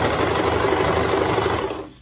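A serger sews and trims knit fabric, its motor running in a steady, loud mechanical whir for about two seconds before it winds down to a stop.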